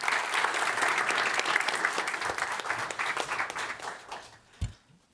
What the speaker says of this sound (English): please give Marta a warm round of applause